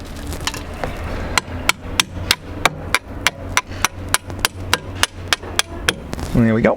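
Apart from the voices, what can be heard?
screwdriver prying up rod of boat trim tilt system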